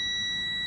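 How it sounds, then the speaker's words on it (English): A multimeter in continuity mode gives a steady, high electronic tone that sounds continuously and loud, a single unbroken beep with no talk, while testing a MacBook Air A1466 logic board. "So on the continuity mode, it beeps"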